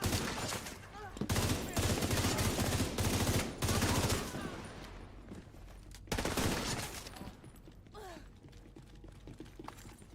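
Gunfire in The Division 2 comes in dense automatic bursts, loud and near, across the first half and again around six seconds, with mechanical clicks and rattles in the quieter gaps.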